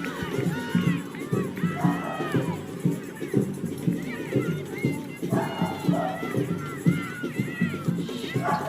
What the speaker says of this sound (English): The crowd is up.